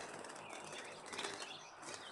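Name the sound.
birds flapping wings inside a clear plastic bag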